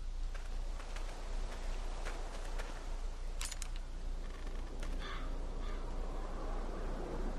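A crow caws repeatedly in a zombie-apocalypse video game, harsh rasping calls coming in short bursts over a steady low ambient drone, fairly faint and without speech.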